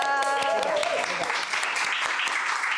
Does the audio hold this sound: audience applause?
yes